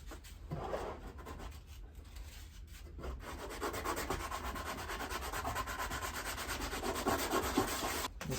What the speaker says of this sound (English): now we're going to sand the inside of here